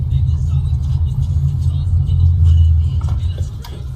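A car engine idles with a steady, heavy low rumble that swells slightly midway, recorded from inside the vehicle as a man stands in front of it, with no talk over it.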